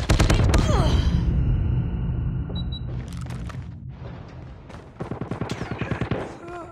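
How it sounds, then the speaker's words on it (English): A hostile sentry gun opens up in a Call of Duty match, a loud rapid burst of automatic fire at the start that fades into quieter sporadic shots, then another rhythmic volley of fairly close firing near the end. "Be advised, hostile sentry gun spotted."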